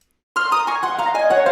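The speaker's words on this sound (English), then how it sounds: "I have these harp patches from the BBC Symphony Orchestra playing this" Harp patches from the BBC Symphony Orchestra library play a sustained, layered phrase after a brief silence, rich and steady at moderate loudness with no voices.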